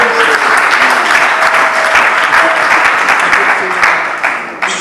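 Audience applauding steadily at a church celebration, a dense continuous wash of clapping that stays loud throughout and tapers slightly at the end.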